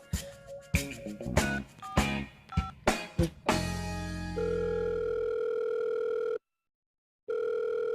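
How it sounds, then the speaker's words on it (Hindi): Quick phone keypad tones are followed by a steady ringback tone that stops, pauses in silence, then rings again, with no one answering. "फोन क्यों नहीं उठा रहा है अब?"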